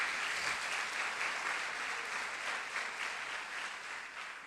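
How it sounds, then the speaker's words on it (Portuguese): A church congregation applauding steadily, a dense, sustained wash of clapping from many people that holds at an even level and tapers slightly at the end. "Vamos aplaudir ao Senhor."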